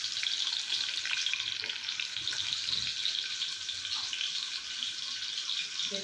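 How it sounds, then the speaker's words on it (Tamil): Onions sautéing in hot oil give a dense, even hiss and crackle that holds steady throughout, close up with no talking. "இப்போ எண்ணெய் ஹீட் ஆனதும் வெங்காயம் போட்டுருங்க. வெங்காயம் போட்டு நல்லா தாளிச்சிடணும்."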